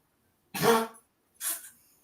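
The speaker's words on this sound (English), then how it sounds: "she's coughing" A woman coughs twice, close and clear: a fuller first cough, then a shorter, breathier second one about a second later, in an otherwise quiet room.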